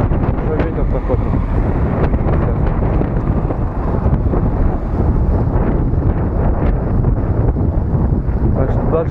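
Strong wind buffets the microphone while someone rides a Fuji fixed-gear bicycle, a constant loud rumbling roar with gusty fluctuations throughout.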